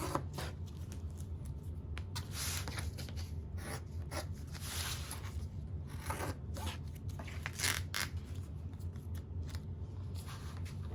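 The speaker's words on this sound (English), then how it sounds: "your scissors can usually just kind of glide through it if you've got nice scissors" Sharp scissors gliding through waterproof canvas with a soft, continuous crisp rasping and light snips, faint and close with no speech.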